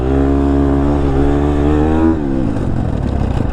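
A 2022 KTM 250 SXF four-stroke dirt bike engine revs hard and close, rising in pitch for about two seconds before dropping off to a rougher, lower idle.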